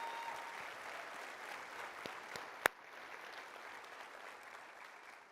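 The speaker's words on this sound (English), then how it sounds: "Please, round of applause for these Olympians." Audience at a summit event applauds Team USA Olympians, steady faint clapping from a crowd heard at a distance, with one sharp close clap partway through.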